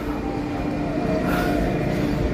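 A water metro boat passes with a steady, loud engine rumble and a low droning hum that holds evenly throughout. No one speaks.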